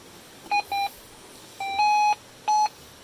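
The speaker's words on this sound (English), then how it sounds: "Oh yeah, that's a really nice signal." A Minelab Gold Monster 1000 metal detector sounds a run of electronic tone beeps over a riverbed: two short beeps, a longer rising tone, then another beep, clear and close.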